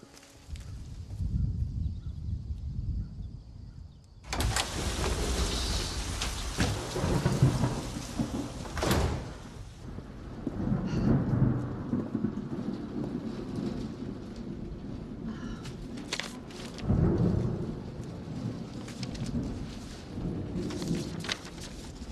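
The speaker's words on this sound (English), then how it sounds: "It's gonna rain." Heavy rain pours steadily with loud rolls of thunder, including a sharp crack near the middle and further rumbles later, in an outdoor storm with no talking.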